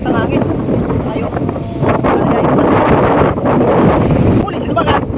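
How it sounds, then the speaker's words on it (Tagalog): Strong seaside wind buffets the microphone while fishing, a loud continuous roar with gusty surges throughout, and a voice talks briefly over it. "Ayan, lakas ng hangin."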